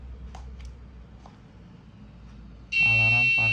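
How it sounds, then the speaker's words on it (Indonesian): An Arduino parking alarm system with an ultrasonic sensor sets off its buzzer after a stretch of quiet background noise, a loud, steady electronic tone that starts abruptly and holds to the end. "Di sini saya akan mendemonstrasikan alat Arduino sistem alarm parkir."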